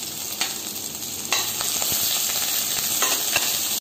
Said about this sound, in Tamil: அந்த ஆயிலில் பூண்டு, அந்த மிளகாய் க்ரீன் சில்லிஸ் கட் பண்ணி வச்சது ரெண்டையுமே